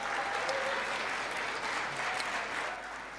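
Audience applause fills a chamber during a State of the Union address, a dense, steady wash of many hands clapping at close range with no break, tapering slightly toward the end.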